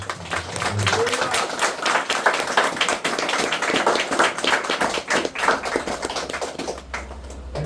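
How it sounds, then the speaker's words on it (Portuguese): A church congregation at a Tabernáculo service in Criciúma applauds in a steady, dense patter of claps that continues throughout, with voices mixed in underneath. "Pode aplaudir o Senhor Jesus Cristo."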